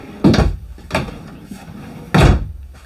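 Cabinet drawers in a small Grand Design 22MLE RV are opened and shut, giving three hollow, close thuds, the first and last the loudest, with a softer knock between.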